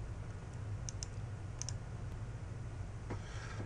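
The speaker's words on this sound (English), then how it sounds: "Go ahead and click that button." A computer mouse clicks on a sign-up button, giving a few quick, faint clicks over a steady low hum.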